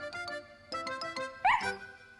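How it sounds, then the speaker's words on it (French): A cartoon dog barks joyfully in a quick run of bright yips and barks over light background music. "C'est alors que Snuffy, qui attendait dehors, aboya joyeusement."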